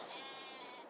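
A loud, close sheep bleat in the farming game Farming Simulator 22, one sustained wavering call filling the moment.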